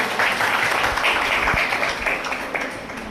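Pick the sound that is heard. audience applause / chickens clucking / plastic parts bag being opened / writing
audience applause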